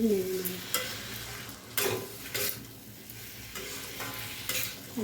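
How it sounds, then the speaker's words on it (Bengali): Potatoes stirred in a hot pan for paneer curry: sizzling frying under scraping strokes of a spoon against the metal, with several sharper scrapes and knocks coming at irregular intervals, close up and with no talking. "আলুটা দিয়ে একটু নেড়ে নেব।"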